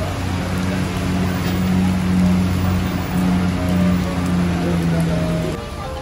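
Heavy rain pouring down at night in a parking lot at Malioboro, Jogja, a dense steady roar of drops with a low engine hum beneath, loud and unbroken.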